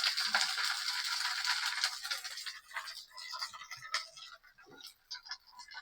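Cham greens hit a pan of onions and chillies frying in oil, a loud crackling sizzle at first that settles into scattered pops and faint stirring clicks up close.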